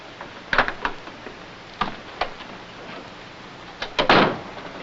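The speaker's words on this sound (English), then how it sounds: "Open the door." Several sharp knocks and clunks of a door being handled and opened, spaced irregularly with a louder thump near the end, close and dry with no voices over them.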